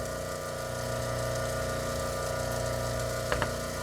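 A lapidary cutting wheel runs with water flowing over it while calcite is being cut, producing a steady motor hum and whir with a pump-like drone and two brief sharper clicks near the end.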